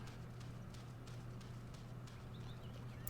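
Horse hooves clip-clop in a steady, quick rhythm as a horse is ridden up a mountain in the video game Go Vacation, heard under a constant low hum of game sound.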